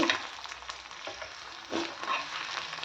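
Ginger sizzles steadily in hot oil in a pan for an egg curry, a continuous close crackle with a few louder bursts as it is moved about.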